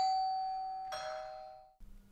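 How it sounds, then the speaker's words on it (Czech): A doorbell chimes a clear two-note ding-dong, the tones ringing out and fading, followed by a faint soft rustle. "tak zazvonili na zvonek"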